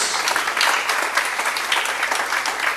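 Sustained applause from a crowd, dense clapping continuing evenly throughout at a steady, fairly loud level.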